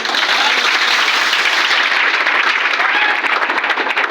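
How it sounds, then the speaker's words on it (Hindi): A seminar audience breaks into loud, dense applause that fills the space steadily from start to finish, many hands clapping at once with no voices standing out. "क्या उनके लिए एक जोरदार ताली नहीं होना चाहिए?"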